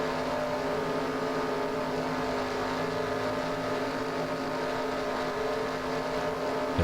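A pack of stock cars in the NASCAR Racing 2003 video game: a steady, dense engine drone holds at an even level throughout, with no gaps.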